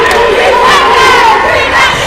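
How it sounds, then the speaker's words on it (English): A student section at a girls' high school basketball game yelling and cheering loudly, a sustained roar of many voices with rising shouts, close and dense throughout. "The Bears section really getting involved, really getting loud."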